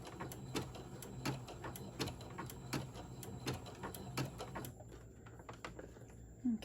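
Home sewing machine stitching fabric for a stuffed gingerbread decoration, giving a steady, rapid rhythmic clatter that stops near the end, close-up and moderately quiet with a faint hum beneath and no speech.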